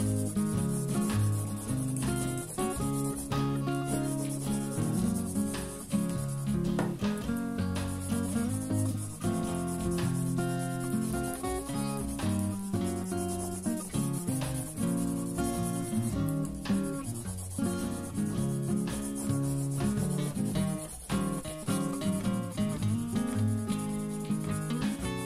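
A yellow coloring pencil rubbing back and forth on paper while a drawing is colored in, a close, steady scratchy stroking under louder background music.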